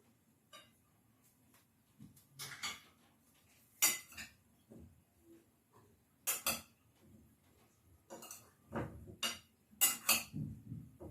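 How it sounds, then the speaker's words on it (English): A utensil stirs potato wedges with curry in a metal pan or bowl, giving sparse, irregular clinks and scrapes in short clustered bursts against a quiet background, with no talking. "we're going to stir this"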